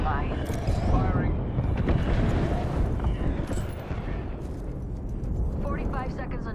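Apex Legends firefight: gunfire and explosions roll together into a dense, loud, continuous rumble with sharp bursts on top, while in-game voices chatter underneath.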